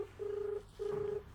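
A phone call rings out on the line: two steady, quiet tone bursts of equal length separated by a short gap, with no voices.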